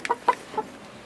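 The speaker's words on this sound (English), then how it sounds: "That's Max's hen" A hen clucks three short, soft times in quick succession, close by in a quiet backyard setting.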